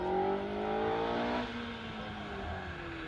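Westfield SEI with a Vauxhall engine at a hill climb, its engine note rising and falling in a continuous whine as it drives past on the course, fairly distant and steady throughout.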